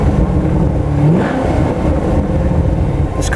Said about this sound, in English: I'm going to rev the car up just a little bit